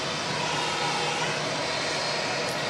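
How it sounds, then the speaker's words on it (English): An Air Chathams ATR turboprop arriving at Auckland Airport gives a steady, even engine drone with a faint tonal hum, continuous and moderately loud, with no talk. "Just grab the Air Chatham's ATR coming in from the Chatham Islands, flight 590."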